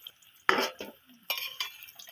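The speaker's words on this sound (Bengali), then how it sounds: "মাছটা ভাজা হয়ে গেছে, মাছটা আমি তুলে নেব।" Fried fish pieces are lifted from hot oil in a pan, with a couple of quick utensil clinks and scrapes over a faint, brief sizzle; quiet and close, with no talk.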